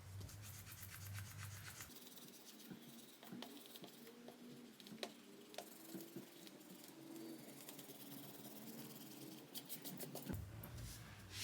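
An eraser rubs out pencil lines on a paper knife design with faint, soft scrubbing strokes in an irregular rhythm, heard close but quiet over low room noise.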